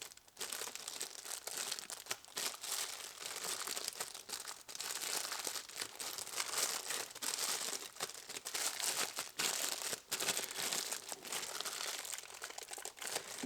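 Protective wrapping and tape being peeled and crinkled off a replacement Volvo V70R P2 turn signal switch, a continuous close crackling and rustling with irregular crunchy bursts.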